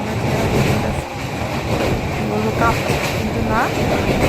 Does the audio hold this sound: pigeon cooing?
no